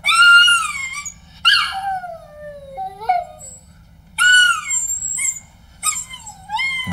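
A small dog howls in long, wavering, high-pitched cries with a few sharp barks, in loud bursts separated by brief pauses, close by in an apartment stairwell setting.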